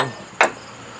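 A single sharp metallic tap from a hammer seating a timing chain part in a 1999 Pontiac Grand Am 2.4L engine, close and isolated, with a short ring.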